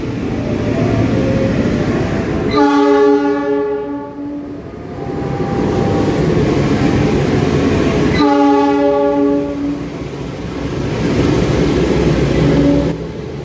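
A Tegal Bahari passenger train rumbles past with a loud, sustained horn sounding twice, clattering wheels and rolling noise swelling and easing between the blasts.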